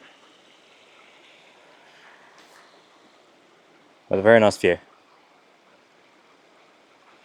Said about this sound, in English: It's a very pretty waterfall, that one. Or a stream.